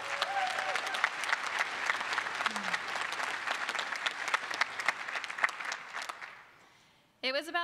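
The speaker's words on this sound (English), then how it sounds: "give yourselves a round of applause." Graduates at a commencement ceremony applaud together in sustained, dense clapping with a few faint voices mixed in, fading out after about six seconds before a voice begins speaking.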